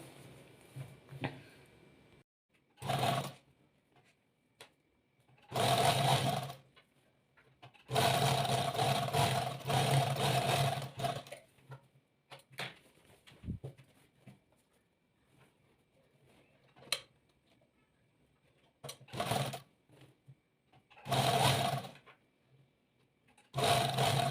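A sewing machine stitches half-inch seams on printed salwar pant fabric in a tailoring lesson, running in several loud, sustained bursts of a few seconds each with quiet gaps between, no talking.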